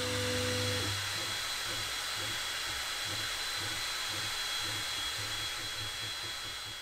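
A 22W diode laser engraves the anodized aluminum casing of a disassembled power bank, giving a steady, close broadband hiss with a low pulsing hum from the machine underneath, holding constant before easing slightly at the end.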